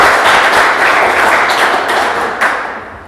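A live poetry reading audience applauds, a dense and steady wash of many hands clapping that holds evenly for a few seconds, then thins and fades toward the end.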